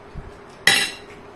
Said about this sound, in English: I'm gonna wash the dishes.